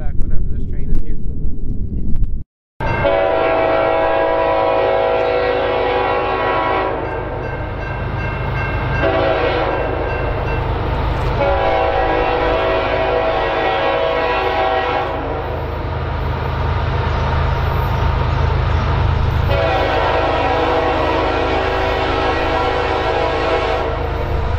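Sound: train passing with horn

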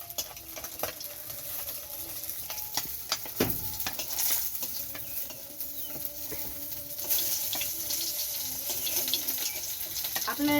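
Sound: fish frying in a pan

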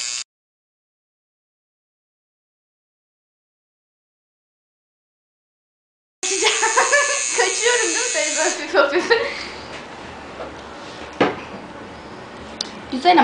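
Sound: tattoo machine buzzing

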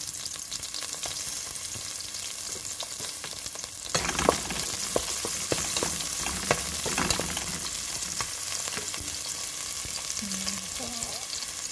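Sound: stirring fish head stew in cooking pan

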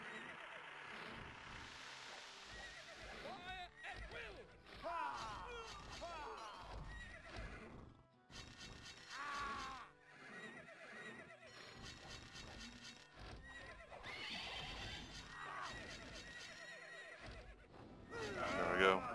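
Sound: horses neighing in the video game KAM Remake

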